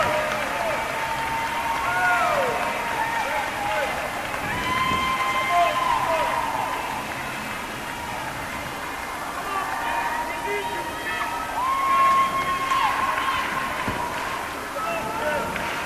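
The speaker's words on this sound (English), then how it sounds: "Crowd showing their appreciation" Crowd noise at a 2019 Tampa vs. Barry college volleyball match, a steady broad wash of applause and cheering from the stands with scattered shouts and whistles, under a commentator's voice throughout.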